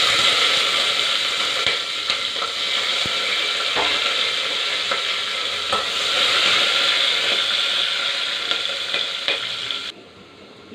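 Chopped onions with biryani spices fry in hot oil, a steady loud sizzle with scraping stir strokes running throughout before cutting off abruptly near the end.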